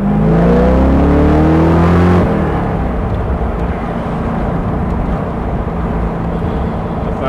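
A 1971 Triumph TR6 sports car drives fast on an interstate, its engine roaring loud and rising through the gears before dropping abruptly to a steady rumble of wind and road noise.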